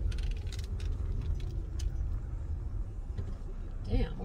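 Steady road noise from traffic with several cars passing close by, a continuous low rumble with brief swells as vehicles go past, heard from near the roadside.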